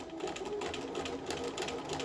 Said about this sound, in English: I'm going to set off with my zigzag and sew around.